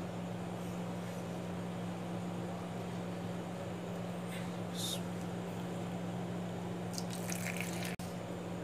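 Black grapes are washed in water, giving faint trickling, splashing and dripping sounds over a steady background hum, with a few sharper splashes.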